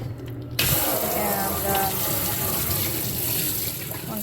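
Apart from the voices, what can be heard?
spraying hot water to rinse a vacuum cleaner part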